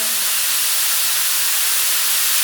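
A pro paint spray gun sprays with the fan opened, giving an unbroken, loud, close hiss of air and atomized paint; a brief faint tone sits under the start and no one speaks.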